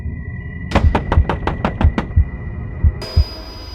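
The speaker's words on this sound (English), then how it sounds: "someone knocked on her door again." A quick run of eight sharp knocks on a door, close and loud, followed after a short pause by two more spaced knocks.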